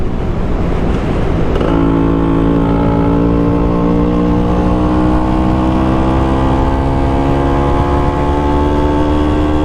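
A Vespa PX scooter fitted with a Pinasco 251 kit revs loudly on a dyno, its two-stroke engine note climbing steadily and smoothly through the gear for several seconds, close and unbroken, with no voices.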